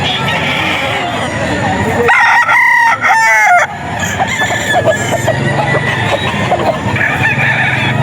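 A young gamefowl stag rooster crows loudly and close by, a strained, wavering call lasting about a second and a half, over steady farmyard background noise with other birds faintly audible.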